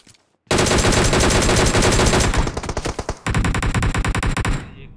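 Rapid automatic gunfire from the PUBG video game, loud and close, in long bursts of fast repeating shots with a brief gap before a final volley that trails off.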